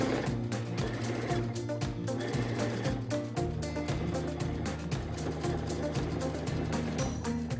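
Sewing machine topstitching the hood of a patchwork denim hoodie, a close, fast rhythmic needle chatter that runs continuously with a brief pause and a change in pace partway through.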